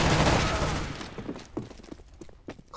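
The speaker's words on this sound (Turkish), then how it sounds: "Bir adamı öldürmek için 50 mermi attım ya." Gunfire in Counter-Strike: Global Offensive, a loud burst of rapid shots at the start that fades into scattered sharp clicks and thuds.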